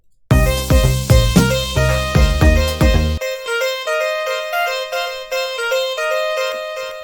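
A bright plucked synth pattern plays through FL Studio's Fruity Delay Bank, then the dry notes stop and their echoing repeats keep ringing out and fading in a steady delayed trail.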